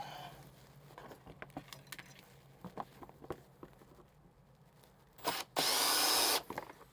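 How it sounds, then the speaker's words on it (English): Scattered tapping and handling noises lead into a power drill spinning up loudly to drill a wiring access hole for a Lane Shark Hammerhead, a short burst then a sustained whine of about a second. "we're going to drill access hole to bring our wiring into this little cavity"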